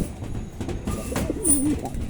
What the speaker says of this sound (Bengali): এটা কালেকশন করা কবুতর